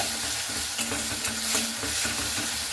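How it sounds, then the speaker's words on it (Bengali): Salt, turmeric and Kashmiri chili powder fry in a pan for a spiced okra curry, a close sizzle broken by quick, regular scraping stirs of a spoon. "এভাবে কিন্তু মশলাটাকে একটু ভালো মতো করে কষিয়ে নিতে হবে"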